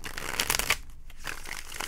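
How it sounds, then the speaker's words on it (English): A deck of tarot cards is riffled and shuffled close by, producing a steady papery flutter with a short pause midway before the ruffling picks up again. "One more shuffle."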